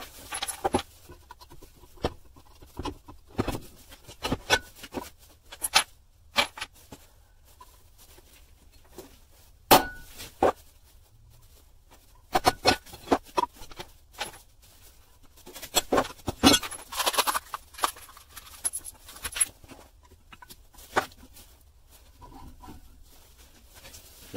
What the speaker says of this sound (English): Let's take the chain off.